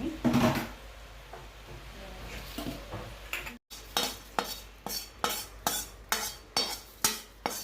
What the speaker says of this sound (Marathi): ती आता मुरमुऱ्यांवर ओतून घेते